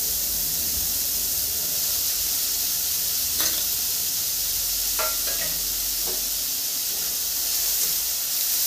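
Finely chopped beans frying in a pan on high gas, a steady dense sizzle and hiss throughout with a few faint spatula scrapes and taps, close and even.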